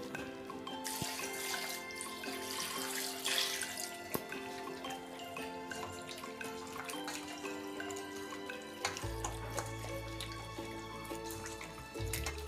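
Country chicken pieces are rinsed in water for natukodi curry, giving faint dripping, trickling and splashing with small clinks, softly close throughout, with a heavier pour of water near the end and no talk.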